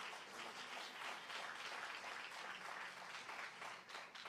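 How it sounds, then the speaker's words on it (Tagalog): Church congregation clapping in praise during a Filipino salvation sermon, a steady, fairly faint wash of many hands filling the room without a break. "Palakpakan natin ang mahal na Panginoon."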